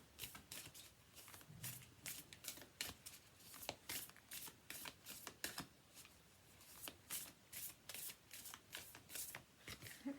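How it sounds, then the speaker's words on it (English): Oracle cards being shuffled by hand in quick, repeated riffling bursts, a steady crisp rhythm of papery flicks and slides, close and fairly quiet, with no voice. "I'm going to pull an oracle card before we go."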